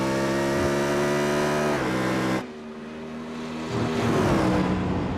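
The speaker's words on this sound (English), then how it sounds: "Love the sounds of these GT3 cars." GT3 race car engines, including a Ferrari, scream at high revs in the iRacing simulator at Spa, one roaring loudly close by, then a shift to another engine rising again; no talking.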